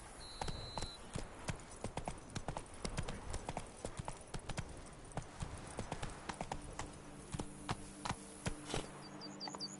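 Roach, the horse in The Witcher 3: Blood and Wine, trots with quick, steady hoof clip-clops close by, joined near the end by a short whinny and faint game sounds.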